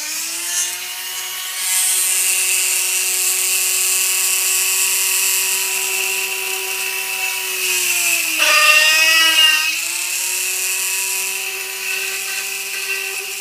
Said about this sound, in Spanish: vamos a utilizar la broca que ya utilizamos antes para los demás tornillos y voy a hacer las perforaciones con cuidado